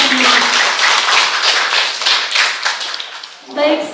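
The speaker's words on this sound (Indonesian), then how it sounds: "Tepuk tangan untuk kita semua." An audience claps at an Indonesian education seminar on teacher competence standards, a lively burst of hand claps that thins out toward the end as a voice begins speaking.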